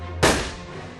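A single sharp rifle shot cracks loudly, then its echo fades away over the following moment.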